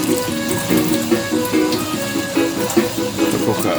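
Very hot water runs from a pipe over saltfish to scald it for ackee and saltfish, a steady splashing stream that stays close and continuous, with no talk over it.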